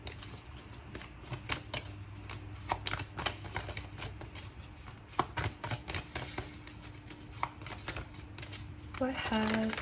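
A deck of Black Moon astrology cards is shuffled in repeated quick riffles and slaps, close and fairly soft, with quiet talk in the background.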